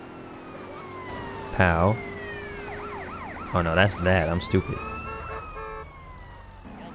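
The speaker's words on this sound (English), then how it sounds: "Why was the police, like, ringing?" Police siren in GTA San Andreas on PS5, a wailing siren sweeping up and down in the background while someone talks loudly over it in short bursts.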